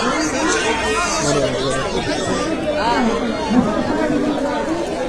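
A large crowd at a Shiv Sena (Uddhav Balasaheb Thackeray) election campaign rally in Sant Dnyaneshwar Nagar, Mumbai, producing dense, continuous chatter: many overlapping voices form a loud, unbroken babble close around the listener.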